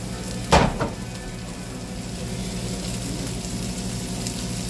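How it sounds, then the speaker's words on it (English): Food sautéing in a pan, a steady low sizzle running throughout, with one sharp clattering knock near the start as a utensil strikes the pan. "How do I know when it's done sauteing?"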